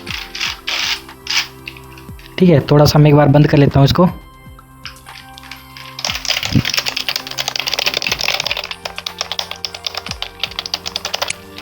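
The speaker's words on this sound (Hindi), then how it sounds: "वो थोड़ा नॉइजी टाइप का कीबोर्ड था।" Clattery keys of a noisy keyboard (a 931 TBT model) clicking in quick bursts, loud and close, with someone talking between and over the typing.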